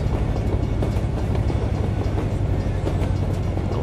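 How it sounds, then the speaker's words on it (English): A train rolls past in American Truck Simulator, a steady, loud rumble with dense low-end roar and continuous rail clatter filling the whole stretch without a break. "Well, the trains have a new sound apparently."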